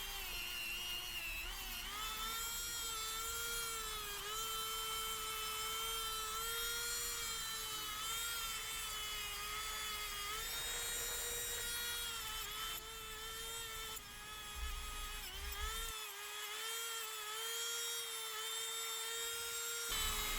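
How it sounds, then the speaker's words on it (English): A Dremel rotary tool fitted with a mini wire wheel whines at a high, steady pitch while it scrubs an antique Stanley 71 router plane, with slight wavers as the load shifts. "now it's time to bring out the mini wire wheel on my Dremel"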